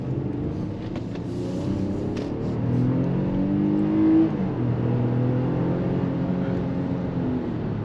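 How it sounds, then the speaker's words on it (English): 2024 Infiniti QX60 Autograph AWD V6 engine accelerating during a test drive, a steady rising drone with engine harmonics climbing in pitch, heard from inside the cabin. "when you push the accelerator, it has a pretty good amount of acceleration"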